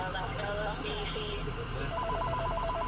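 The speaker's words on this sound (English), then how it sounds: "Is that the house phone still ringing?" A house phone rings with a repeating warbling trill, faint and somewhat distant, under a busy, noisy background with voices.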